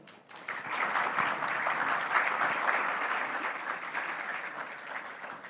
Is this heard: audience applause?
yes